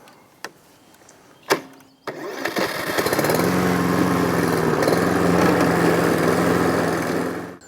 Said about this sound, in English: it's a good idea to give the lawn a fairly close cut. and I've got this one on number 3 on this mower